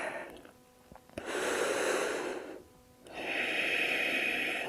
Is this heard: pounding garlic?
no